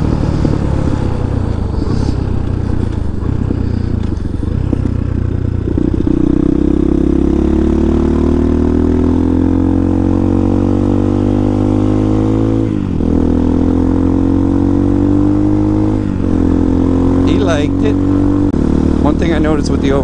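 A Vitacci Apollo DB36 supermoto with an overhead cam engine being ridden, loud and close, its engine note climbing steadily through the revs with a few shifts and dips, wind and road noise throughout.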